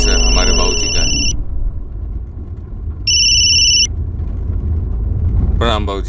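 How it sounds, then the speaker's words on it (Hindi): A telephone rings in two bursts of bright electronic trilling over a low rumbling background, and a voice speaks near the end. "फोन उठाओ"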